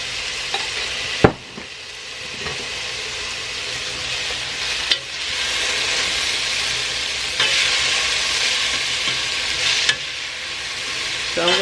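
A tablespoon of minced garlic sizzles in a pot for a lentil soup with chicken, a steady hiss of frying with occasional stirring clanks.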